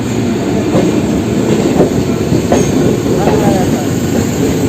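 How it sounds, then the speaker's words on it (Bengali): A local train bound for Howrah passes on the adjacent track, loud and close: a continuous rolling rumble with wheel clatter and faint squealing, sustained for several seconds. "পাশের রুটে একটা কিন্তু আবার লোকাল আসছে এটা হাওড়ার উদ্দেশ্যে যাচ্ছে"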